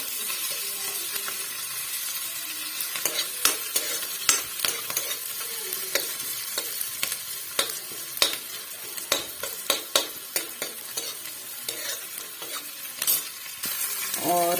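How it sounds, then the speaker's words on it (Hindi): Onion and carom seeds fry in a pan for poha, with a steady sizzle and frequent quick metal scrapes and taps of stirring up close, busiest in the middle and with no speech. "इसके लिए मैंने ये डाल लिया अजवाइन और अब डाल लिया था प्याज"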